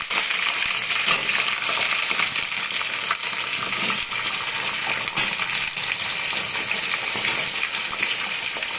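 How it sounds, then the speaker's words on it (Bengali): Pointed gourd and squash tipped into a hot frying pan for a mixed vegetable curry, giving a loud, steady sizzle and rushing hiss with small clatters, continuous throughout and without speech. "এখন পটলটা এখন দেবো, পটল আর কোয়াশটা দেবো।"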